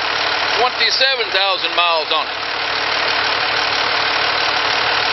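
Idling 1993 Ford F350 work truck with a Cummins 5.9 diesel engine and a five-speed transmission, its steady loud rumble running throughout while someone talks over the first two seconds.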